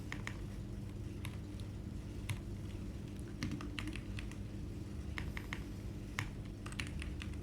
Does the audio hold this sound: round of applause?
no